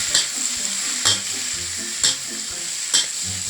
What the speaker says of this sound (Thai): ให้ใส่กุ้งลงไปผัดนะครับ แล้วก็คนให้เข้ากัน